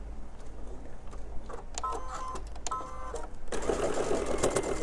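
A sewing machine runs over flat quilt seams in small pieced work, with uneven stop-start stitching and light clicks, then a louder, continuous run of needle chatter near the end.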